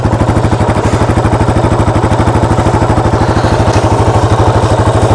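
A motorcycle idling through a Viper aftermarket exhaust pipe, a steady loud rhythmic chugging pulse close to the pipe, alone with no talk.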